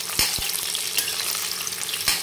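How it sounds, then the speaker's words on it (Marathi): Potatoes fry in oil in a kadai over medium heat for dum aloo, a continuous close sizzle with a few sharp stirring knocks and scrapes, no one speaking. "आणि आता आपण याला तेलामध्ये थोडेसे फ्राय करून घेणार आहे।"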